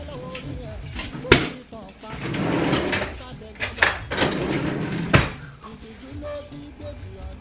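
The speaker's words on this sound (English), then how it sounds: "I'm gonna open the tin tomato and take about 3 tablespoons out" A tin of tomatoes gets opened in a home kitchen with sharp metallic clicks and clanks, a couple of loud knocks amid softer handling, while a person talks.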